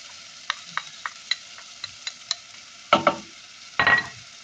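Onion and garlic cook in a pan for green beans: a run of soft clicks and taps from stirring, then two louder bursts of crackling sizzle as more food hits the hot oil.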